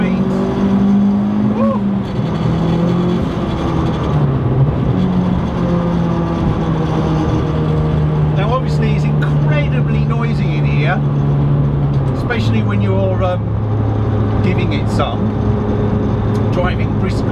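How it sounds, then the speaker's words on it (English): A turbocharged Renault Clio 182 track car pulls hard on track with a loud, steady engine drone and rising revs, and its turbo dump valve releases in short whooshing bursts. A voice is heard over the engine. "Can you hear that dump valve?"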